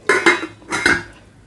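A lid placed on a cooking pot of paneer pulao, two close metallic clanks with short ringing tails about half a second apart, no speech.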